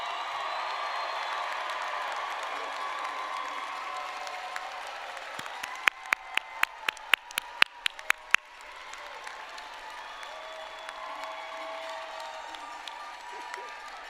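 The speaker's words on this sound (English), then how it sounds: "honor you with everything you've done to get them here with a loud round of applause" Loud, sustained applause and some cheering fill a hall at a Rutgers School of Nursing convocation at NJPAC, with a run of sharp individual claps standing out midway before the applause eases.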